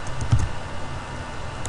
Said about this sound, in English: I'm gonna be a little careful in typing now